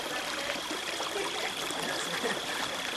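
Shower water runs steadily, a continuous hissing spray with a faint tonal whine in the background, even in level throughout with no talking.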